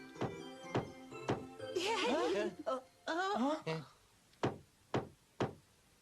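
A door in an animated fairy tale of the wolf and the seven young goats is knocked in sharp, hollow raps, two at the start and three at the end, with bleating voices talking between them.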